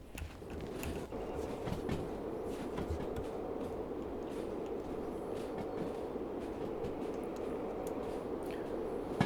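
Locomotive in the Derail Valley train simulator rolling along steadily on a misty day, a continuous low rumble with faint rhythmic rail clicks at a distance, no speech.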